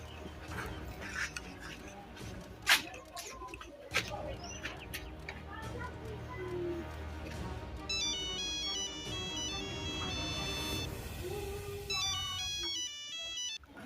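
A telephone ringtone plays in a Madurese comedy scene, a repeating electronic melodic pattern that starts partway through and recurs in bursts, heard over background voices, clatter and ambient noise.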